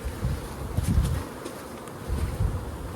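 Honey bees buzzing around an open hive while a beekeeper adds a deep brood chamber, a steady low hum that swells in two louder bursts, with faint outdoor rustle.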